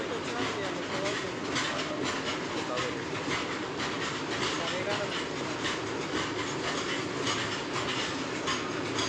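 A passenger train in India creeps into motion, heard from nearby as a constant low rumble and faint rail clatter, with people talking over it.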